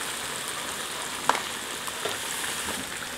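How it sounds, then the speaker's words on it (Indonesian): Garlic paste sautéing in hot oil, a soft continuous sizzle and crackle with an occasional sharp tick of a utensil, fairly quiet. "Kita tumis dulu bawang putihnya, sampai harum aja."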